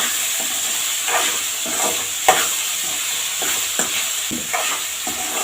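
Salted pasta frying in oil on the stove sizzles steadily while a spoon stirs it, with a soft scrape or clink about once a second and no voices.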